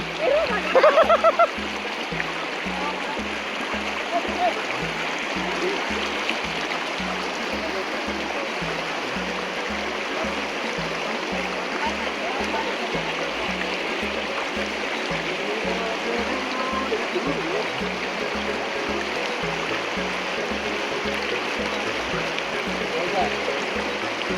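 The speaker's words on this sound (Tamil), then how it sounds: "ஸோ பேருக்கு 100 மீட்டர் நடந்து வந்ததுக்கே ஒரு நல்ல ஓடை." A mountain stream near Maroon Bells, Colorado runs steadily with a broad, continuous rush of water; a brief splash or voice sounds at the start, then the flow carries on alone at an even level.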